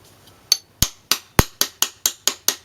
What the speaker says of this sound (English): Just whack it with a hammer